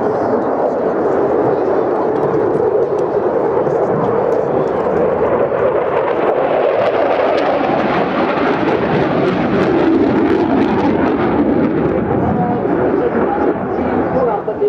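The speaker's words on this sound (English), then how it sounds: "Now accelerating on the way down to 100 feet, accelerating to over 600 miles an hour for a high-speed pass" A military jet makes a high-speed pass at the Clacton-on-Sea air show in Essex, a loud, steady roar that swells and shifts in tone as it goes by, with a voice talking over it.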